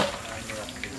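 Water splashes and pours into a cooking pot during outdoor wedding-feast cooking in Cavite, a short, close, continuous gush.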